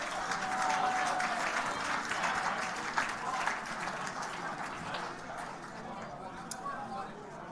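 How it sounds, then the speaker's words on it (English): Audience applause for winners at a university athletics hall of fame induction ceremony, steady full clapping filling the room and slowly tapering, with scattered voices underneath. "a round of applause for all of our winners here today"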